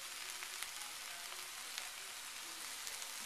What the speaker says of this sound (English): I need some more stir fry sauce. I'm just going to add that.